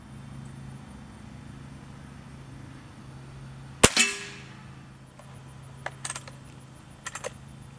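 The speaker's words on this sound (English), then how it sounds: "Shooting a spring gun can be quite a challenge." An RWS 52 Striker spring air rifle fires once with a sharp, loud crack and brief metallic ring, followed by a few light clicks and taps of handling in a quiet setting.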